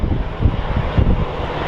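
An airplane at Phoenix Sky Harbor Airport gives a steady loud engine roar with wind noise, a continuous broadband rumble that swells slightly and has no talk over it.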